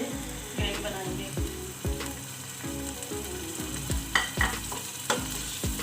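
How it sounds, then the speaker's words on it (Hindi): Tomatoes fry in hot oil for a biryani gravy, giving a steady sizzle with repeated scraping stir strokes at an uneven rhythm. The sound is close, no one speaks, and a few sharper clinks and spatters stand out. "ऑयल डाल दिया है, उसके साथ मैं टमाटर डाल दूँगी।"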